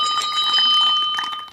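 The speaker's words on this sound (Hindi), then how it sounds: "घंटी बजी" A bell rings during a devotional Krishna story recital, a bright, sustained electronic ringing tone that fills the room loudly and steadily before trailing off at the end.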